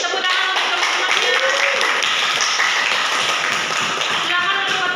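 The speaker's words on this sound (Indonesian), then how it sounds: "Beri tepuk tangan untuk teman-temannya." A classroom of children claps for their classmates, a dense stretch of brisk scattered applause lasting several seconds, with voices murmuring underneath.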